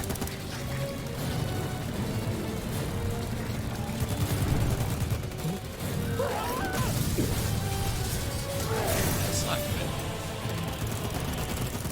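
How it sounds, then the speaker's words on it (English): Big explosions and gunfire from video game footage, with rockets fired at a large target. Dense, continuous battle noise carries sharp blasts and rapid bursts throughout, and voices sound faintly within the din. "Pretty big explosions for RPGs."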